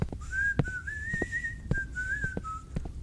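A person whistles a continuous wavering tune close by, sliding up and down in pitch over about three seconds, punctuated by a few soft knocks and clicks in the background.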